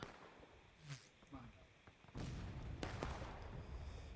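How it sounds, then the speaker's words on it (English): An artillery shell bursting in a large multiplayer battle game, a sudden loud crack and roar after a quieter stretch of scattered sounds, with a voice speaking faintly over it. "Where'd that artillery shot go? I heard it."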